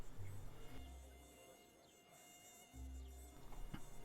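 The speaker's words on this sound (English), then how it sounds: "I hear Mosquito" A mosquito buzzes in the video game Neverwinter Nights 2, a thin, steady whine over low ambient game hum, with louder rumbling bursts at the start and end.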